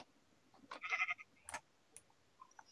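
A Minecraft sheep gives a short, quiet bleat, followed by a few faint clicks and small sounds in an otherwise hushed game scene.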